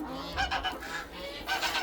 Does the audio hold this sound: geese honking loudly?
yes